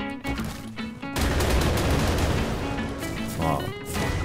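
Rapid, overlapping explosions from the Ark Primal Fear game mod crackle like a fusillade in a continuous loud barrage lasting several seconds, with tonal game effects around the edges.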